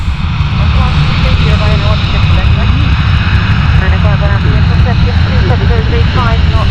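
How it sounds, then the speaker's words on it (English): An Airbus A330 jet airliner roars loudly and close at Stansted Airport, a dense sustained engine rumble with a whining tone filling the whole stretch, with people talking beneath it. "It's Airbus A330"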